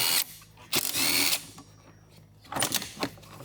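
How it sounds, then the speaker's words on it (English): Power tool, likely an impact wrench or drill, spinning off the 14mm nuts on a front wiper arm of a 2010-2015 Toyota Prius, in two loud close bursts with a pause between them. "Just remove these two 14mm nuts."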